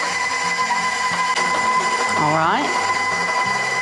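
An electric stand mixer steadily whirs through banana bread batter as sugar is added, a constant close motor hum with a brief pitch sweep and a short spoken remark over it.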